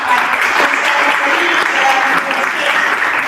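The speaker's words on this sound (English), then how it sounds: "I request you all to join me in giving a warm round of applause" A warm round of applause from a large audience at a formal gathering, dense and steady clapping filling the room loudly for the whole stretch without letup.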